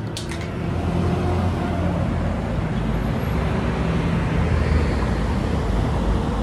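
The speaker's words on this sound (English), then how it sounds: "you can hear me over the street traffic, which is really loud" Loud, steady roar of street traffic with a continuous low rumble of passing vehicles, dense and close, with no pauses throughout.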